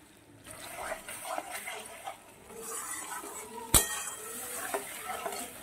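Spice paste of tomato, ginger, cashew and brain frying in a pot for a vegetarian jackfruit curry, a low sizzle broken by repeated spoon stirs and one sharp clank of metal, close, with no talk.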